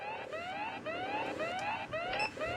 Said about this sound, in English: my phone is actually vibrating as well as the alarm going off